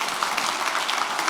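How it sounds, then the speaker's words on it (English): Conference audience giving a round of applause for a panel of speakers, a steady, fairly close wash of many hands clapping without pause. "Let's give these speakers another big round of applause."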